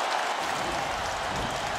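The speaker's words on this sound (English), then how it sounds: "This crowd is on its feet." Boxing arena crowd roaring and applauding at a fight's close, a dense continuous wall of cheering noise throughout.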